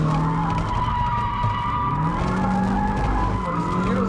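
A stock 1.8-litre NA Mazda Miata drifts at Capitol Raceway in Maryland, its tires skidding and squealing continuously over a droning engine, loud and fairly close throughout.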